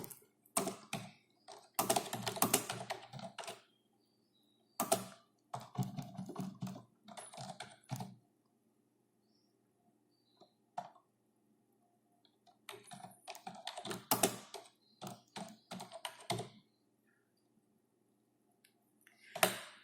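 Computer keyboard typing in several bursts of quick clicking keystrokes separated by silent pauses, close and fairly quiet, with no voices.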